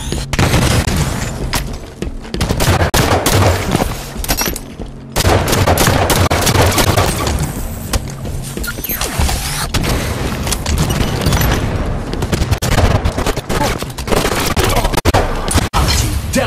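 Heavy gunfire and explosions from the Halo 5 video game, with dense, continuous bursts of shots and booming blasts filling the whole stretch at high volume.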